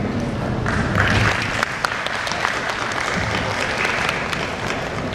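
Seminar audience applauding three presenters at an international conference on inclusive public policy in Indonesia, a steady wash of clapping from a room full of people, moderate and continuous with faint voices mixed in.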